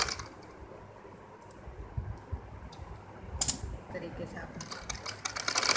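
A sewing machine stitches along the gathered seam of a baby frock, its rapid mechanical clatter running steadily beneath a voice speaking Hindi.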